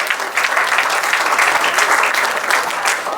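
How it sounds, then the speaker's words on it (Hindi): Wedding guests applauding newlywed couples, a loud, dense and sustained round of clapping from a large crowd with no gaps. "एक बार उनके समय लगाने के लिए भी तालियां हो जाए"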